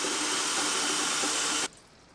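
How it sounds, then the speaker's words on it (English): Tap water gushing into a sink, a loud steady rushing stream that cuts off abruptly, leaving only faint room tone afterward. "let me fill up the sink with water"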